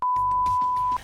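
A single steady answering-machine beep sounds loud and clear for about a second, laid over light background noise.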